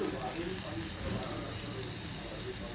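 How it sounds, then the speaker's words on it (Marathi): Chopped garlic sautés in a hot pan until lightly reddish, a steady close crackling sizzle with a soft hiss running evenly throughout. "लसूण जास्त करपवून पण द्यायचा नाही आहे आणि कच्चा पण ठेवायचा नाही आहे, थोडासा लालसर होईपर्यंत परतवून घ्यायचा"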